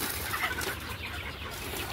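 Desi chickens cluck softly and continuously on a poultry farm, a busy close flock murmur with no talk over it.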